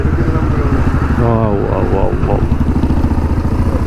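A Hero Xpulse 210 motorcycle engine runs nearby with a steady low throbbing idle, loud and continuous, with a brief rev or rising note partway through.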